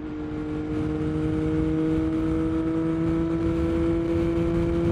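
A motorcycle engine droning steadily at close range, its pitch holding nearly level with a faint upward creep as it pulls through a gear, with no talking over it.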